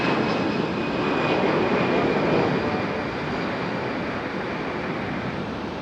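A Spirit Airlines airliner rolls toward takeoff at Raleigh-Durham International Airport, its jet engines giving a steady, loud broadband roar with a faint high whine that swells slightly midway, then holds.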